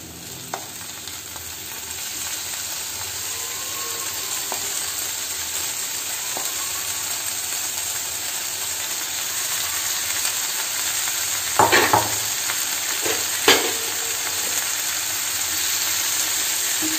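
Half a kilo of pork frying in a pan for a Kerala-style pork fry, a steady, loud sizzle lasting throughout, with a couple of brief utensil clatters near the end.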